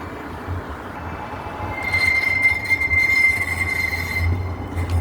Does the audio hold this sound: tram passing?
yes